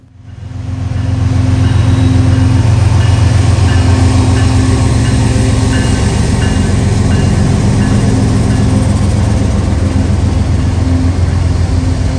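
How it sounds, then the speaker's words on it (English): CSX freight train B522 on the Toledo Sub, carrying steel slab loads and empty coil cars, rolls past close by with a loud, steady rumble and a clatter of wheels that builds quickly and holds. "B522, daily Detroit, Michigan to Middletown, Ohio, steel slab loads and coil empties, follows closely on the heels of I-141 out of Deshler."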